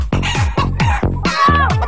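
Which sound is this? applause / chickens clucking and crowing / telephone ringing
chickens clucking and crowing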